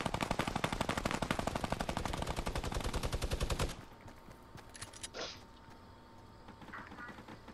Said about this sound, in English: I think they're shooting somebody else right now.